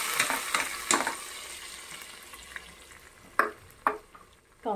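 Oil with red chilies for dal tadka tempering sizzles and crackles in a pan while a spoon stirs it in a few short scraping bursts, fairly faint with quiet gaps between.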